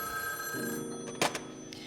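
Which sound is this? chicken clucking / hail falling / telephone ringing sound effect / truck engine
telephone ringing sound effect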